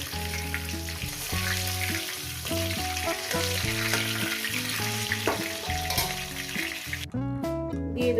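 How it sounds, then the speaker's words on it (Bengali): Dry chillies, bay leaves and whole cumin frying in hot oil give a loud, continuous sizzle for most of the clip, with music playing throughout and a few clinks of stirring toward the end. "এখানে শুকনো লঙ্কা তেজপাতা গোটা জিরে কয়েক সেকেন্ড ভেজে নেব একটু"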